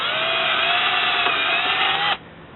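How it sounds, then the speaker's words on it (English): A power drill bores pilot holes into a stockade fence gate, whining steadily and close for about two seconds before stopping abruptly. "let's drill some pilot holes here"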